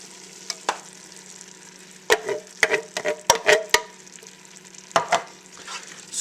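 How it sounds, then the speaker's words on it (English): Chili with salt, hot sauce and stewed tomatoes being stirred in a pot, a run of close scraping spoon strokes and clinks over a low steady background hum, strokes clustering in quick bursts with pauses between. "stir that together."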